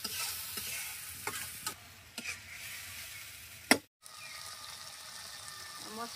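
Shukto masala is stirred in a pan: spoon scrapes and clatters over a soft frying sizzle, with a sharp knock near the end before a brief drop to near silence, then the sizzle resumes.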